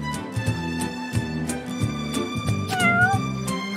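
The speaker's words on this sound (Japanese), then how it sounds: "猫がいる。" Cat meowing in the Princess Connect! Re: Dive game, repeated short meows in a steady rhythm over soft background music, close and clear, with one longer rising meow near the end.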